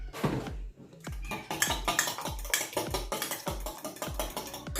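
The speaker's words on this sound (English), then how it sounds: "whisk your eggs up with a fork" A fork whisking eggs in a bowl, quick repetitive clinking taps against the dish at a steady brisk rhythm, close and clear with no talk.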